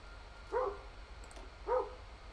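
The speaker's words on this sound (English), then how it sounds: "You can probably hear a dog barking." A dog barks twice, about a second apart, at moderate distance over a quiet background with no one talking.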